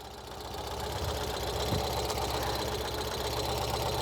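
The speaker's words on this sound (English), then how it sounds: "you can see, this is the bike going in reverse." A Ural Gear Up sidecar motorcycle engine runs steadily while the bike moves in reverse gear, giving a close, continuous mid-low drone with a faint knocking pulse and no talk.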